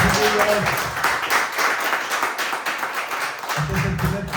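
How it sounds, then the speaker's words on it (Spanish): A small group claps at a talk-show recording about addiction stigma, brisk close clapping in the middle between stretches of voices at the start and end. "Un aplauso, chiquillos."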